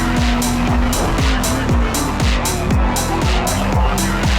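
A 1997 Honda Civic Type R screams around Laguna Seca in a motorsport video game, its engine revving high through repeated upshifts in a loud, steady run with no talk.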